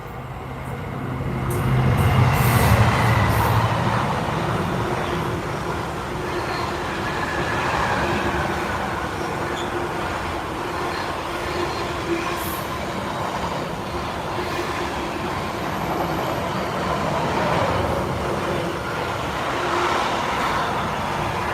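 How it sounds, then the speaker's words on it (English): A train rumbles past at a steady pace, wheels clattering on the rails, with a swell of noise early on that stays continuous throughout. "here comes the freight train"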